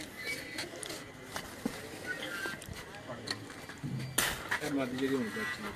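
Pigeons on a rooftop loft in Jamalpur Syedan, Gujrat, give soft low coos scattered through the clip, mixed with ambient noise and nearby talking.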